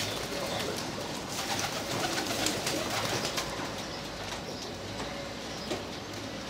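Pigeons cooing softly amid a steady outdoor hum, with occasional faint flutters and taps nearby.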